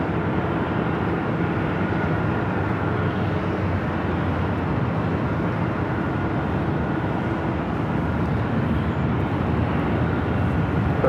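An Aer Lingus Airbus A330 airliner arriving at Los Angeles LAX gives a steady, loud broadband jet roar that holds evenly throughout with no speech.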